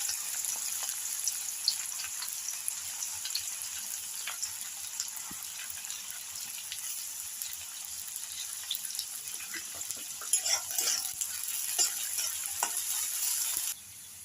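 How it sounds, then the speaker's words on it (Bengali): Chopped onion sizzles in oil that was already used for frying lentil cakes, a steady crackling fry with occasional stirring clicks throughout, no voices. "এবার আমি ওই একই তেলে পেঁয়াজ কুচি দিয়ে দিলাম"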